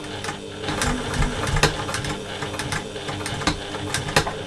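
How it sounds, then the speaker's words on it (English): A sewing machine running a short back stitch on a slouchy fabric bag, its quick mechanical whirring punctuated by sharp clicks, close and steady with no talking. "Nice little back stitch to make it nice and secure"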